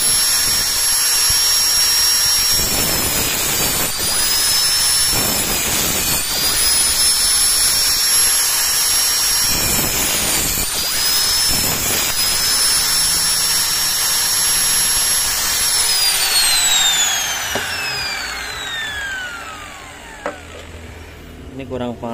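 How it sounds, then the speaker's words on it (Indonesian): A Miyako 18-inch fan part gets a slot cut with an angle grinder: a loud, steady high-pitched whine that holds for most of the span, dips briefly under load, then spins down near the end. "Jadi saya gunakan gerinda. Nah, di sini saya pakai gerinda."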